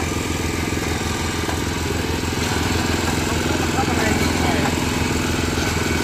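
A small engine on a vegetable-planting vehicle chugs steadily and fairly loud as the vehicle is driven. The rhythmic clatter continues throughout with light mechanical rattle.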